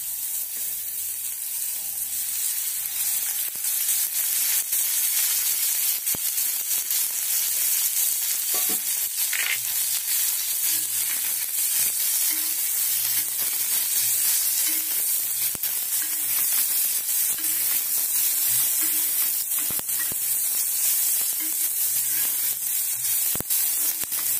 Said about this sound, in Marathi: आता हे कापून ठेवलेला कांदा आणि टोमॅटो यात आता आपल्याला 1 चमचा तेल सोडायचं